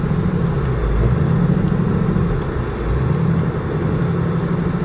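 A 2018 Mustang GT on Michelin X-Ice snow tires climbs a snowy hill in a blizzard with traction control off. Its engine rumbles close and loud and surges twice as the car slides.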